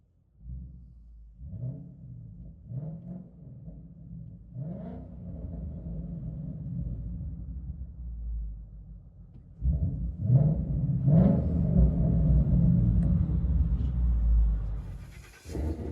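A Ford Mustang GT with the 5.0L Coyote V8 and a loud aftermarket exhaust rumbles deeply at idle, then gets blipped in repeated revs that swell into a louder, sustained roar near the end.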